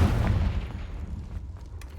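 Confringo fire spell blast in a Harry Potter video game, a loud booming explosion at the start that rumbles low and fades over about two seconds, with no voices.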